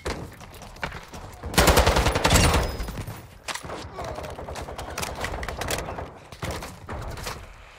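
Gunfire in Call of Duty MW2 DMZ, a loud sustained burst of automatic fire early on, then scattered sharper shots and clatter continuing throughout at varying distances.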